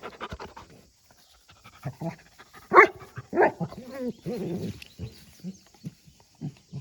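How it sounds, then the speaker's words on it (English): Golden retriever panting and letting out several sharp barks at rocks outdoors, close and loud, in uneven bursts separated by quieter breathing. "Anybody else have a golden retriever that loves to bark at rocks?"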